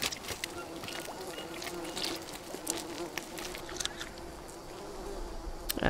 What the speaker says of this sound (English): I'm hearing another bee nest and it is there